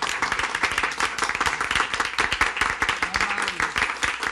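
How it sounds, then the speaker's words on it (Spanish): A studio audience at a TV variety show breaks into dense, sustained applause to welcome a distinguished lady guest, with many hands clapping close and loud for the full few seconds. "vamos a recibir con un nutrido aplauso a una distinguida dama"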